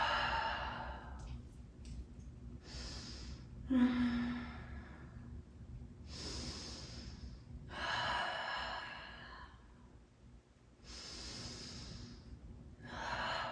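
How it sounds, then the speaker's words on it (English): Deep yoga breathing during an arm-balance flow, with several breathy inhales and exhales in a slow, irregular rhythm. The breaths are close but fairly soft, with no talking. "Take a moment to breathe. One more big inhale. And exhale to revolve."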